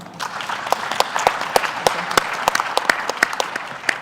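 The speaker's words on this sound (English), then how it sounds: "Let's give them a clap." Audience applause for a research panel at an outreach event on enhancing research capacity in innovation and development. Steady clapping from a modest crowd with distinct sharp claps standing out, continuous throughout.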